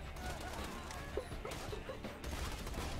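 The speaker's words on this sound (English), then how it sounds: "So many people shooting me!" Rapid gunfire from several weapons at once in the shooter game Borderlands 2, a dense crackling barrage that runs steadily for the whole few seconds, fairly faint and with no talk over it.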